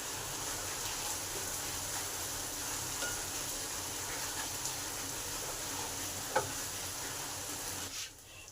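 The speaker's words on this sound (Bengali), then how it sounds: "পেঁয়াজটা তাড়াতাড়ি ভাজার জন্য স্বাদ অনুযায়ী নুন দিলাম।" Chopped onion fries in oil with salt added, giving a steady close sizzle with faint stirring scrapes and a brief clack near the end, no voices.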